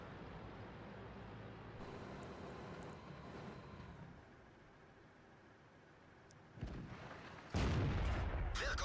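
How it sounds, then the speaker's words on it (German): Tank cannon fire in the video game World of Tanks comes as two heavy bursts near the end, loud against an otherwise quiet, low rumbling background. "kommen auch wieder die Schüsse und die Leute von uns werden beschossen"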